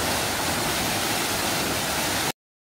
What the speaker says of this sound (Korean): 해발 700m가 넘는 곳에 높이 28m의 엄청나게 큰 폭포가 우렁차게 흘러내리고 있습니다.